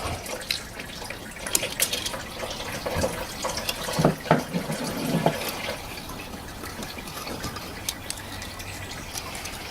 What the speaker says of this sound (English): definitely some more water coming out of there